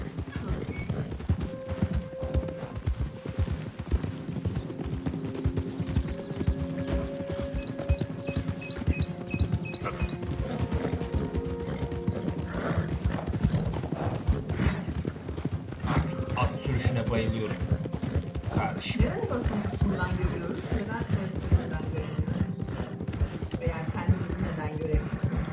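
Horse hooves clip-clop steadily in Red Dead Redemption 2, a continuous rhythmic trot with an occasional whinny, running underneath someone talking for most of the stretch.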